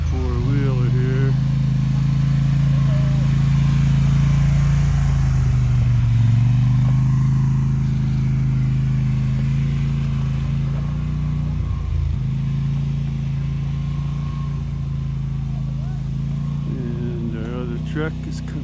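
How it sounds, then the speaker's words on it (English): A four-wheeler engine drives past on a 4x4 trail near Ouray, Colorado, a loud, close, rumbling drone that swells and dips as it revs and moves. Someone talks over it. "There's a guy in a four-wheeler here."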